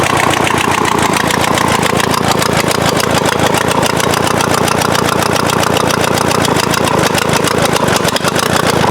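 A VW diesel engine fitted in an offroad Mazda runs loudly and close by with a fast, even clattering idle, continuous and unbroken.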